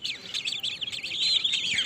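Purple swamphen chicks chirp in a rapid, continuous chorus of thin, high peeping calls, close by and fairly loud.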